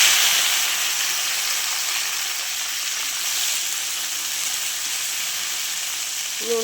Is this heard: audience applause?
no